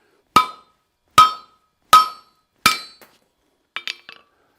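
Hammer blows on steel while cutting off a hand-forged rose stem at a coal forge: four loud, ringing metallic strikes about a second apart, then a few lighter clinks, close and with no talk.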